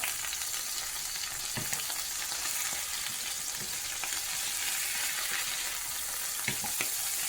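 Around six cut-up onions quick-fry in grease for sliders, putting out a continuous crackling sizzle with occasional faint spatters and utensil taps.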